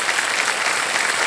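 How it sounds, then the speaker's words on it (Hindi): Studio audience applauding on the Hindi quiz show Kaun Banega Crorepati after a contestant's correct answer, steady loud continuous clapping with no pause across the short stretch. "तालियां बजती रहें इनके लिए"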